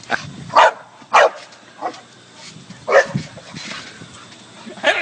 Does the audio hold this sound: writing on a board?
no